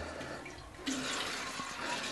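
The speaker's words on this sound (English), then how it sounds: "And now water, of course." Water pours onto freshly transplanted plants in a flower garden, a steady splash-and-stream rush that gets louder partway through and keeps going close by, with no one talking.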